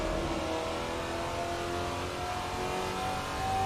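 A Dodge Trans Am race car in the Assetto Corsa racing game, its engine holding a steady, loud, droning note with a continuous hum throughout and no talking.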